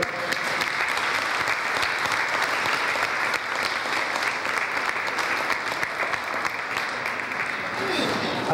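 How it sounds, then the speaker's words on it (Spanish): A church congregation at a consecration ceremony in Nacaome claps steadily and densely, loud and sustained throughout. "un fuerte aplauso"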